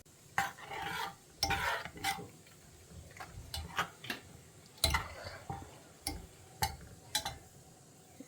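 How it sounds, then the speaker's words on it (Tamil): Pineapple rasam being stirred in a pot, giving a series of separate scraping and clinking strokes of a spoon against the metal, close and moderately loud, with no talking. "ஸோ இப்போ இதை கலந்து விடலாம்."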